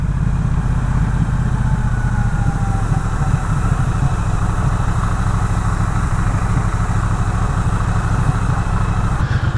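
A Triumph Bonneville Bobber motorcycle rides along a pretty road, its engine a steady, loud, close drone that holds an even throttle throughout with no talking.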